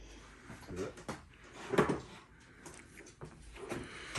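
Small plastic 7-drawer organizers are handled and their drawers slide and clack a few times, soft and close, mixed in with ongoing conversation.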